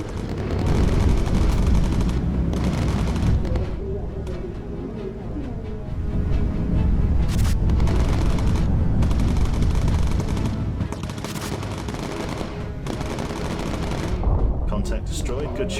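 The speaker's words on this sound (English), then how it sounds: "Contact destroyed. Good shooting, Seesaw." Machine guns rattle in the aerial combat game Bomber Crew, sustained loud bursts and booming fire running almost without pause, with radio-style voices talking over it.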